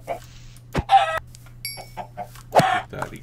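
A chicken clucks and squawks in short, scattered bursts in Minecraft, close and fairly loud, mixed with sharp clicks and game noises.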